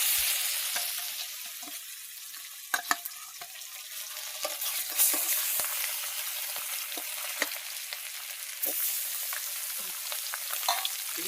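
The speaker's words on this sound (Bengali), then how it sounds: "তো তেলটা গরম হয়ে গেছে, মাছ ভাজা দেবো।" Fish sizzles steadily in hot oil in a wok in a village kitchen, a dense close crackle with sharp pops and spatters through the whole stretch.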